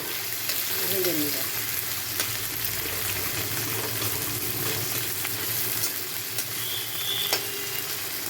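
Onion and garlic sizzle steadily in a hot pan, a continuous close frying hiss with occasional stirring scrapes, and no talk over it.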